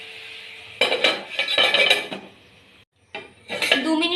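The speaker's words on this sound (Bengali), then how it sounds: "ঢাকনা বন্ধ করে দেব।" A lid clatters onto a metal pan of koi fish cooking for a Bengali village-style dish, with metallic clinks and scrapes of cookware, close and fairly loud, followed by a brief pause and more clattering.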